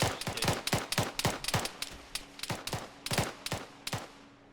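Gunfire in Arma 3 cracks out in a long, loud series of sharp shots, some single and some in quick doubles, with a steady rhythm and a faint hum underneath.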